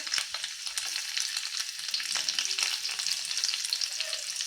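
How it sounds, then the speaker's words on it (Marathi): Finely chopped garlic fries with cumin seeds in hot oil for a dal palak tadka, giving a continuous bright sizzle with occasional stirring scrapes, close and steady, with no talking. "लसूण पण छान आपल्याला परतून घ्यायचं आहे सोनेरी रंगावरती"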